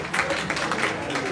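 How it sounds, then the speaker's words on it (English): Audience clapping in a university hall at a TESCON event, a steady wash of many hands applauding at close range throughout the short stretch. "And I think we should clap for ourselves."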